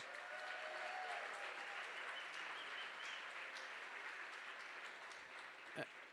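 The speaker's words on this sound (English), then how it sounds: "please give them a warm round of applause" Warm applause from a gala audience honoring about thirty volunteers, a steady broadband wash of many hands clapping throughout, fairly even in level with one brief sharper accent near the end.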